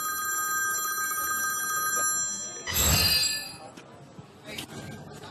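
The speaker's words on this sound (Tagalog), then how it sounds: "May tumatawag." A telephone rings in a home with Filipino speakers, repeated electronic bell tones sounding close and steady, interrupted by a louder burst of movement and muffled voices nearby.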